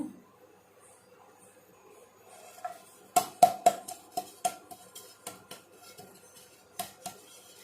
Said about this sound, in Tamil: எல்லாம் சுற்றி எல்லாம் தட்டி விட்டுக்கலாம்